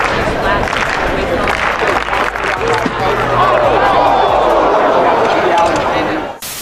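Dense roar of an athletics stadium crowd clapping and cheering, a continuous wash of applause and murmur that swells and holds before cutting off abruptly near the end.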